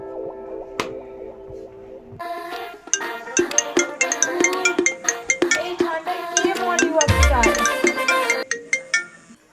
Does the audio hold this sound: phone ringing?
yes